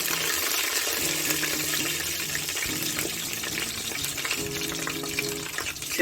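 Mustard seeds, fenugreek and green chillies frying in oil for a peanut oregano pomfret fish curry, a dense continuous loud sizzle close up with faint low hum beneath, no talk.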